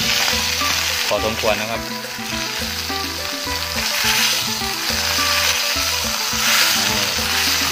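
Beef steak fries in a pan with a loud, steady sizzle, partly under background music, with someone briefly speaking.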